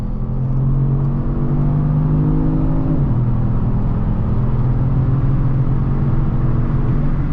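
A 2021 Kia Stinger GT1 AWD accelerates hard through a timed 60–100 run, its engine drone loud and steady with a brief dip in pitch around three seconds in, as if shifting gears, then pulling on.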